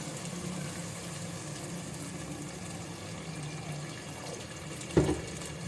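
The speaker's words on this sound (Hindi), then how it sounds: "मैं इसमें पानी डाल रही हूँ जितना मुझे शोरबा रखना है।" Water poured into cooking curry masala for aloo anda salan, a continuous pouring and gurgling wash throughout, with a sharper splash or clatter near the end.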